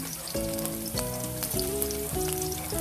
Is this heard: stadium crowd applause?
no